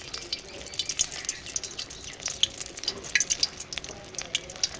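Cauliflower pakoras fry in hot oil, giving a steady, fairly quiet crackle and sizzle with scattered bright pops and spatters throughout.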